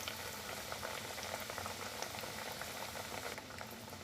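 Chicken nuggets deep-fry in oil over a low flame, giving a steady, close, dense bubbling and sizzling hiss with no voices.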